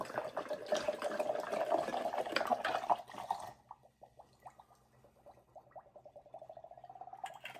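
Homemade vodka poured from a bottle into a jar of berries for a fruit liqueur, a close, steady liquid splash for about three seconds, then quieter glugging trickles and a rising filling tone as the jar fills.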